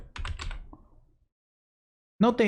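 A short flurry of soft keyboard taps enters a word into a text layer in Adobe Premiere, fading to silence before a voice briefly resumes.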